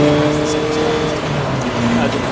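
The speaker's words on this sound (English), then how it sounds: "Martin did a good job to get Mike's car into the gravel" Race car at Brands Hatch Indy circuit, a VW Golf or Audi TT TDI in 750 Motor Club Roadsports racing, giving a steady engine drone with shifting pitch throughout. A commentator talks over it.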